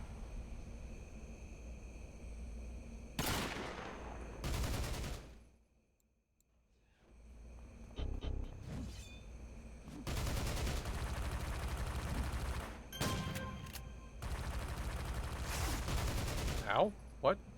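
Repeated loud bursts of gunfire and blasting effects from the City of Heroes video game, split by a short near-silent gap, with a smoke canister and a sniper shot among the game sounds.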